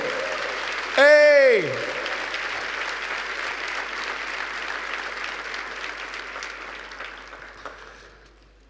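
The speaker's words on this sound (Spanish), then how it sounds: "¿Cuánto le da un aplauso al Rey de Reyes, al Señor de los Señores?" A church congregation bursts into applause during a sermon, opening with a loud shout, then sustained clapping that slowly fades out over several seconds.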